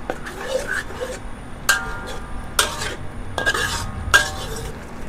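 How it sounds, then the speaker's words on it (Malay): Metal utensil scraping and clinking around a pot as asam pedas tempoyak fish curry with patin fish is stirred, with irregular bursts of clatter and soft background noise. "Dan kita kacau lah bagi dia sebati macam tu"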